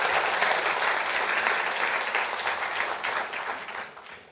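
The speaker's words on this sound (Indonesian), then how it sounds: "Boleh berikan tepuk tangan untuk kita semua?" A studio audience at an Indonesian television debate show applauds, a loud, dense wash of clapping that holds steady and then tapers off over a few seconds, with no one talking.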